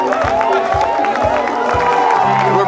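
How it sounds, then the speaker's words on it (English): A crowd cheers and shouts during a high school ultimate frisbee state final, a loud continuous roar of voices and whoops with scattered claps, kept up throughout. "you can hear the crowd is getting real excited right now"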